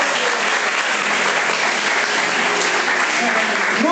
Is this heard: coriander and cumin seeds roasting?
no